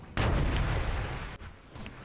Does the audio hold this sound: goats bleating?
no